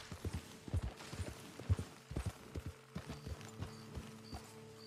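Horse hooves clip-clopping on the ground in the game Red Dead Redemption 2, a steady walking rhythm of soft thuds, fairly quiet and close, with faint tonal game ambience underneath and no talking.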